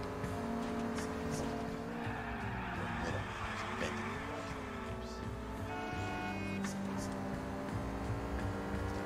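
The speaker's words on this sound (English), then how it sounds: "Do you hear this engine, my boy?" A car engine revving in the video game LA Noire, a droning tone that rises and falls in pitch under ongoing voices and game audio, fairly loud throughout.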